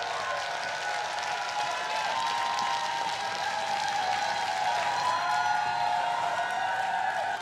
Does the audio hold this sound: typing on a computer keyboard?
no